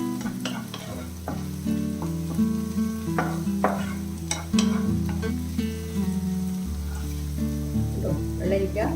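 Cucumber curry simmers in a pan, with soft sizzling and occasional spoon taps against the pan under a steady tonal background hum or music.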